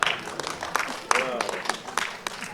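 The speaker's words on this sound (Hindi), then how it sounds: "जो लोग तालियां बजा रहे" Audience applause at an awards show, scattered clapping bursts under a man's continuous speech, fairly faint.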